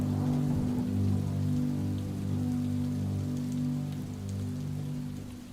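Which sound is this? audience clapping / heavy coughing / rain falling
rain falling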